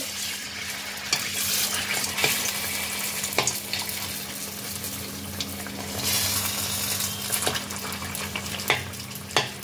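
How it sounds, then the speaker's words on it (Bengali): Malpua batter frying in hot oil in a kadai gives a steady, close sizzle throughout, broken by occasional sharp ladle taps and scrapes against the pan. "এরকম ভাবে উল্টে পাল্টে হালকা লালচে করে ভেজে নেব।"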